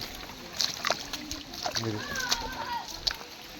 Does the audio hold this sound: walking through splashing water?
yes